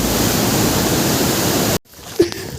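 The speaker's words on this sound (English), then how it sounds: "There's a feisty river going on due to all the water." A swollen river in rainy season near Agua Caliente, Peru, rushes as a loud, steady roar of turbulent water that cuts off abruptly, followed by quieter ambience and a brief thump.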